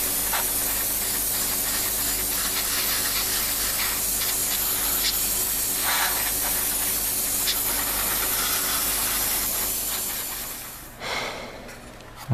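Flat clear coat sprays from a can onto a 1:48 MPC Star Wars A-Wing plastic model kit, a close, steady hiss that holds for about ten seconds before cutting off, followed by a brief soft rustle.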